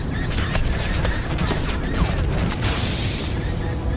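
Rapid blaster fire in Star Wars: The Force Unleashed, a burst of sharp repeated zaps crackling over a busy game soundscape, fairly loud and continuous for a few seconds before easing into a rushing wash.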